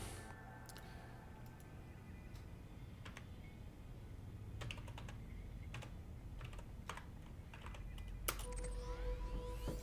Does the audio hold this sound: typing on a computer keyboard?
yes